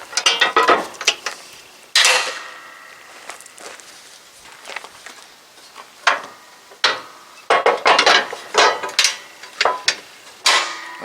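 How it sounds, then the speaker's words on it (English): Metal tin covers being fitted back onto a Kubota RCK60-32 mower deck on a B2601 tractor, a series of sharp clanks and knocks in irregular bursts, close by with no talk. "We'll put the tin covers back on here."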